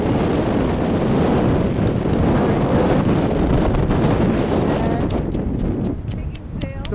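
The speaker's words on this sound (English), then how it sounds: "It's quite windy out." Strong hurricane wind roars and buffets the microphone at Scarborough Beach, a loud continuous rush that eases slightly near the end.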